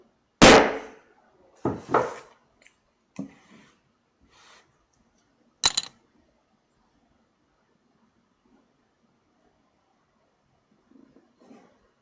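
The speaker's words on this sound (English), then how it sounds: "I'm going to make a sharp noise here as I tap this chisel." A chisel takes a few sharp taps, starting with one loud, close crack and followed by several lighter knocks and one more distinct strike, with quiet stretches between them.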